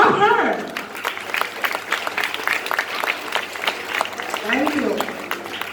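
Audience applause at a primary school graduation ceremony in Jamaica, a dense burst of clapping from the crowd, with a voice speaking at the start and again near the end.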